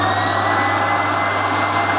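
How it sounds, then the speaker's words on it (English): An air blower runs in a physics lab experiment, a steady loud whooshing drone with a constant hum, close and unchanging throughout. "we turn on the air blower"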